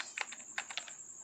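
Keys on a computer keyboard tapped in a short, quiet burst of about half a dozen clicks while Python code is being written, with no voices.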